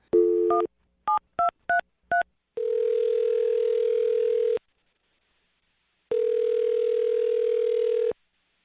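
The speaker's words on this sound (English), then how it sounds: "I'm dialing the phone number" A handful of short touch-tone dialing beeps, followed by two long, steady phone ringback tones separated by a pause of silence.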